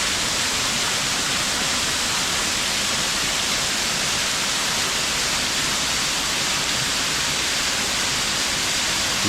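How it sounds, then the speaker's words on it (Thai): Waterfall at a temple in Laos: a steady, loud, broadband rush of falling water that stays even and unbroken from start to finish, with no voices. "น้ำตก"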